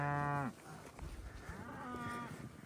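Neighbor cattle on a Colorado ranch moo: one close, loud, drawn-out low call ends at the start, followed by a fainter second moo from farther off over outdoor background noise.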